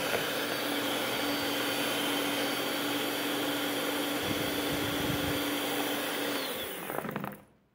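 Electric hand mixer beating gelatin glaze frosting at high speed in a bowl, a loud steady motor whine with whirring beaters that runs continuously, then cuts off abruptly near the end.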